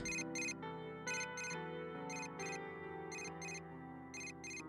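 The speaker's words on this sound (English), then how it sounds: "A familiar ringtone sounds from my cell phone inside my bag." A cell phone ringtone from the video game Persona 4: Dancing All Night plays as a clear electronic melody, with bright repeated double-chirp bursts pulsing over sustained tones in an even rhythm, alone and without talk.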